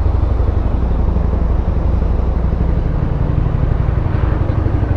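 An Italjet Buccaneer 250i V-twin motorcycle engine idles steadily up close, a deep, loping throb that rumbles continuously without pause.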